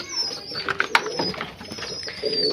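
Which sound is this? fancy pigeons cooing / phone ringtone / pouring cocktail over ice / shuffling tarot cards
fancy pigeons cooing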